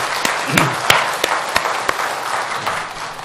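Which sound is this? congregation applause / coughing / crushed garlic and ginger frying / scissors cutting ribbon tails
congregation applause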